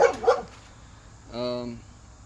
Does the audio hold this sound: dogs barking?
yes